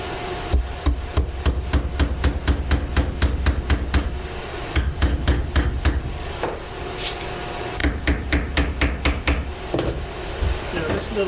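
A mallet made from a wooden pallet strikes wood in fast, sharp repeated blows, bursts of dozens of close, loud knocks with short pauses between runs.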